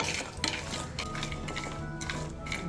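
Ingredients for homemade malt dry-roasting in a pan, stirred with a spoon: a steady close scrape-and-rustle with a few sharper utensil knocks against the pan over a constant low hiss, no voices.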